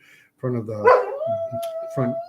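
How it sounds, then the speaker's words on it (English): A border collie barks in short, loud bursts at a dog passing in the street outside a front window. The barks mix with a rising howl-like whine, and a person speaks over them, all close by. "The joys of a border collie when a dog goes walking down the street in front of the"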